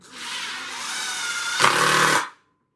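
A power drill whirs as it drives a wood screw, rising in strain as the screw bites in, then stopping abruptly, close and alone without speech.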